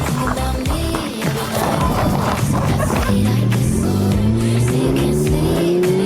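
A car engine revs and climbs steadily in pitch, loud and close, with a rising tonal whine layered over road and mechanical noise.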